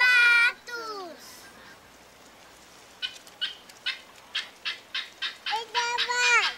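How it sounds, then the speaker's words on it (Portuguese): Birds on a children's TV show give short gobbling, quacking calls in a rapid rhythmic series, with a high child-like voice at the start and end. "Olha os patos!"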